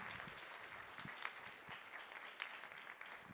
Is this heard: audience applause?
yes